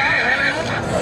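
A horse at a colt show for the milk-teeth category neighs, a drawn-out whinny heard amid crowd noise and talk.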